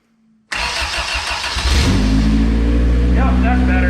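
A Honda CRX with a swapped engine cranks and starts, settling into a loud, steady idle close by after a quiet moment of faint talk.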